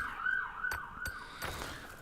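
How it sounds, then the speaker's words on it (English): A steady wailing ambulance siren sounds in the distance, holding a sustained tone under a low background rumble with a few faint clicks, no talking. "Ambulance."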